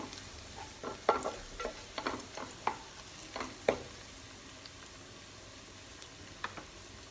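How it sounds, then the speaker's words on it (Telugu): Mace and onions frying in oil for prawn biryani, a soft, low sizzle with several sharp stirring clinks and scrapes at close range, with no voices. "జాపత్రి వేసి వన్ మినిట్ వేగనిద్దాము ఆయిల్లో చక్కగా ఫ్రై అయిపోయాయి ఆనియన్స్ అన్నీ"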